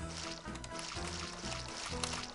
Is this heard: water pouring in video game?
yes